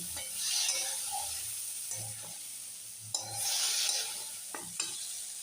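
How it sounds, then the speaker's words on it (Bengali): Red lentils (masoor dal) sauté in a pan and are stirred, making a soft sizzle broken by a few scraping strokes of a spoon, fairly quiet and close, with no talk. "এবার মুসুরির ডালটা দিয়ে দিলাম। ভালোভাবে কষিয়ে নিচ্ছি।"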